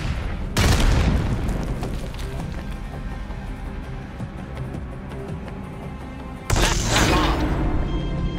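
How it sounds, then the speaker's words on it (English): A flashbang grenade goes off in Black Ops 6 multiplayer with a loud, bright burst, ringing into a dense wash of game noise before a second sharp blast near the end. "Sending flashbang."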